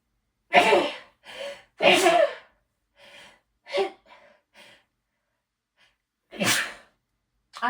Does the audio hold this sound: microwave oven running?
no